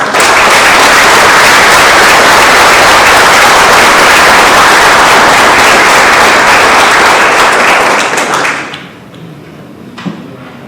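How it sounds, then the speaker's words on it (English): A loud, dense round of applause fills a road safety awards ceremony hall, close and sustained for about eight seconds before dying away abruptly into quiet room noise with a single soft thud. "So can we all give everyone a round of applause?"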